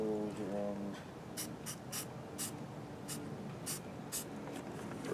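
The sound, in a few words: spray painting a Jeep tailgate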